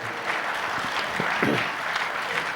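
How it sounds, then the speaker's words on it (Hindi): Audience applause at a Republic Bharat Sangam stage event, a steady dense clatter of clapping filling the hall, with a few faint voices briefly underneath. "इनके लिए ताली बजाएंगे आप लोग"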